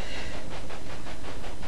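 A big train running on rails in the Railway Empire video game, a steady rolling clatter with faint hiss, continuous and fairly close, with no voices.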